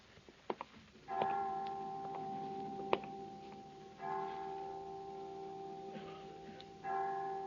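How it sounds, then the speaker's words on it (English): Chimes of a clock at a children's home ring out in an old radio drama, a few soft ticks and then three sustained bell-like strikes spaced evenly, each ringing on and decaying, with no talk over them. "I didn't know the children's home had chimes."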